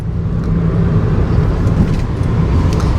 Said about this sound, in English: we are driving to the dam